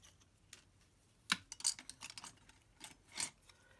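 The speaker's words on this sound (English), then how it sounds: "I just might take my big scissors actually and slice it" Big scissors slicing a strip of Whisper White card, a few quiet crisp snips and rustles of paper close by, with short gaps between them.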